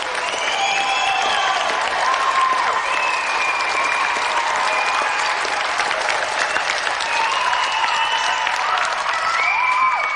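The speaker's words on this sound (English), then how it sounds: "So let's have a final round of applause for Jamie Brown and tonight's special guest," A studio audience on a 1992 television games show applauds steadily and loudly for about ten seconds. Whoops and cheers rise over the dense clapping, and there is no talking.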